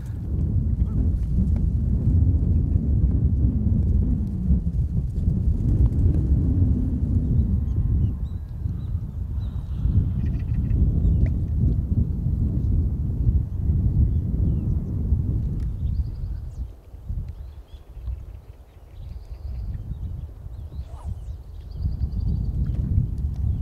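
Strong wind buffets an outdoor freshwater fishing spot in rain, a continuous low roaring rumble that gusts and dips, close and loud throughout.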